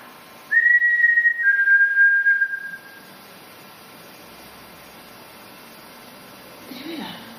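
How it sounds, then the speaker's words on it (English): A person whistles one sustained, steady note lasting about two seconds, then quiet follows until a faint voice near the end. "If I whistle, will you whistle back?"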